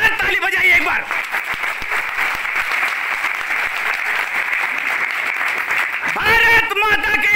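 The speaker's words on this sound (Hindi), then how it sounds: "अगर लगता है कि सही है तो जोरदार ताली बजाइए एक बार।" Loud, sustained applause from an audience at a Hindi political speech, dense clapping filling the whole stretch with a voice speaking over its start and end.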